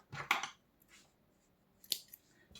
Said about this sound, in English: we cut our yarn